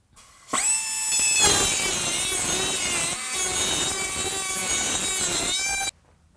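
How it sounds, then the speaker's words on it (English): A rotary burr grinds inside a metal part being prepared for a babbitt pour, giving a loud, steady high-pitched whine with a gritty scraping texture that runs continuously for several seconds, dips briefly, then stops abruptly. "take the rotary burr and get in here, and basically I'm just reaching in here and cleaning out"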